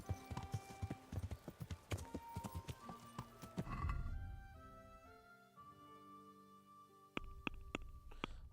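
Horse hooves clip-clop in Kingdom Come Deliverance, a rapid, close series of loud hoofbeats over the ground. After a pause, a horse whinnies with a long, tonal neigh before the hoofbeats resume.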